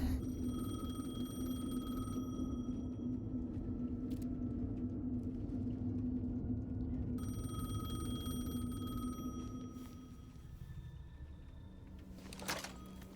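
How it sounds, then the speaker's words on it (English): A payphone rings in the video game Alan Wake 2, a faint electronic trill that sounds for a few seconds, stops and then rings again over a low ambient hum, with no talk. "The payphone was ringing."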